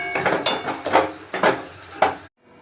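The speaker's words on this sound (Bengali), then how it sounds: "একটু লঙ্কার গুঁড়ো, একটু জিরে ধনের গুঁড়ো, দিয়ে নেড়ে নেব।" A utensil scrapes and knocks rhythmically in a pan while chili, cumin and coriander powders are stirred in, about five distinct metallic strokes close up before a sudden stop.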